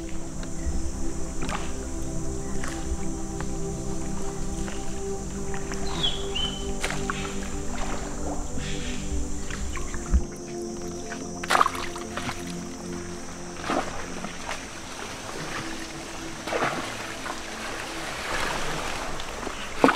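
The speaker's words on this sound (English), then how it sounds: "this is one incredible boat ride through some of the most unique scenery surrounding us" Steady engine drone of a motorboat on a jungle river with water rushing past, a few knocks and splashes; the motor cuts out partway through, leaving water and faint sounds.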